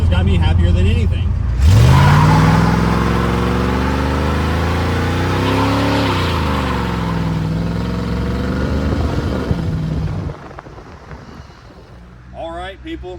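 A 1987 Ford Thunderbird fitted with long tube headers drives past. Its engine rumbles loud and close, with a rising rev partway through, then fades as the car moves away.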